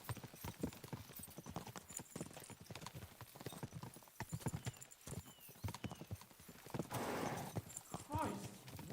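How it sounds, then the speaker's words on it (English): Horses gallop in Kingdom Come Deliverance 2, hooves clip-clopping in a rapid, irregular rhythm with a whinny, while voices talk over the hoofbeats. "We should spur the horses on!"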